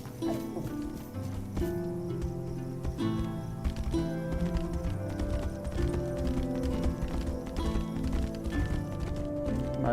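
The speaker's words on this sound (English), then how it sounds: "The smoothest horse riding animation I've ever seen." Horse hooves gallop in the fantasy video game Tainted Grail: The Fall of Avalon, a fast rhythmic clip-clop under a dense game soundtrack, continuous and fairly loud.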